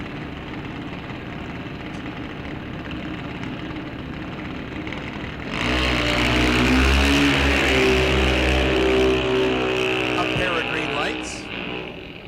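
A drag racing car at a Rock Falls Raceway bracket race roars to full volume halfway through, its engine surging and wavering as it goes on and off the throttle, while an announcer talks over steady background noise.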